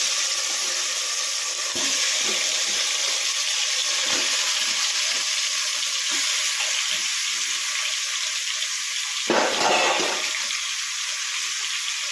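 Raw chicken goes into water and is washed in a home kitchen: a steady rush of running water with occasional splashes and clunks, louder near the end, and no talking.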